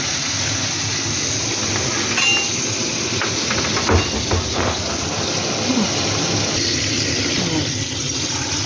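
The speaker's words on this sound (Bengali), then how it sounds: "সিমগুলো আমি লাল লাল করে একটু ভেজে নেব" Flat beans frying in hot oil, giving a steady sizzling hiss with occasional light clatter and knocks in the pan, moderately loud and continuous.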